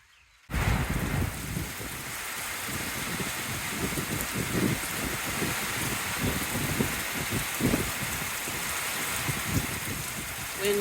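Heavy rain lashes down in blustery gusts, a constant roaring hiss with surging low rumbles of wind buffeting a microphone.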